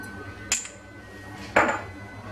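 Two sharp metallic clinks as a casserole pot is handled while table oil is poured in for lentil soup, each clink close and distinct against a quiet background.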